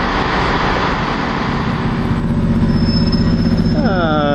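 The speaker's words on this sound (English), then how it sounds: "This is a Northern Rail service going to Leeds, and behind it is an East Midlands service going to Derby." Northern Rail and East Midlands trains at Nottingham station give a loud, steady rumble of engines and rolling stock, with a rising whine and brief wheel squeal near the end.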